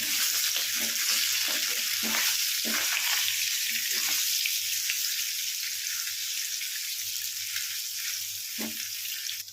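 Paneer pieces shallow-fry lightly in a pan, giving a loud, continuous hiss of hot oil with a few soft stirring knocks in the first seconds over a faint low hum.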